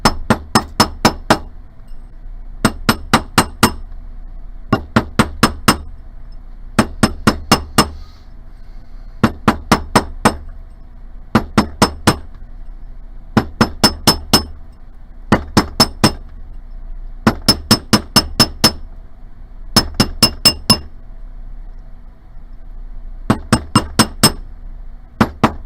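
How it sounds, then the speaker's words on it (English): A sterling silver ring is hammered flat around a metal mandrel in quick bursts of bright ringing taps, each group of strikes followed by a short pause, repeating steadily and close up. "I'm gonna hammer this flat all the way around my mandrel"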